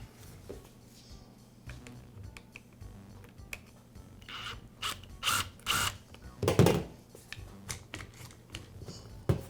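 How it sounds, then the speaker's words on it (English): Small clicks, taps and scraping handling noises come from removing the rear cover of a Makita multi-tool, close and intermittent, with a few louder clatters midway. "I'll begin by removing the rear cover from the tool."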